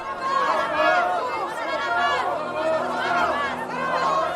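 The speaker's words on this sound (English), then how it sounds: "Pilate is interrupted by the crowd, baying for him to release Barabbas and crucify Jesus" A large crowd shouts and clamours continuously, a dense babble of raised voices demanding Barabbas's release and Jesus's crucifixion before Pilate, loud and swelling in waves throughout.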